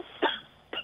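A person coughs twice, about half a second apart, with a sharp near burst followed by a lighter second one, during a tense confrontation.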